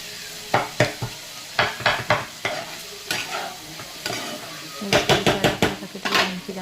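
A spoon scrapes and clatters in a pot as spiced curry is mixed, sharp irregular metallic knocks and scrapes in bursts over a faint sizzle, close and fairly loud, no talk.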